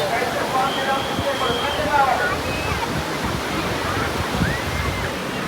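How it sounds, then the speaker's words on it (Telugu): Ocean waves roll and wash onto Rushikonda Beach in Vizag, a steady broadband surf roar running throughout with faint voices nearby. "అలలు ఇలా వస్తున్నాయి చూడండి"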